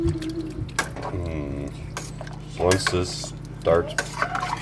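A spoon clinks and scrapes against a metal pot in a few stirring strokes while a person talks briefly.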